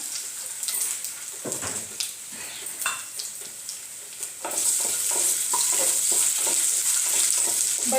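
Chopped potato frying in hot oil with cumin seeds, a steady close sizzle with scattered stirring scrapes and crackles, growing louder and denser partway through.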